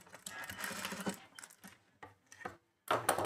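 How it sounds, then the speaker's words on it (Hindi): A sewing machine stitches along the edge of a fabric strip for a balloon-style top, running in close, rapid whirring bursts broken by short stops. "यहाँ पे हमें एक किनार की सिलाई लगानी है।"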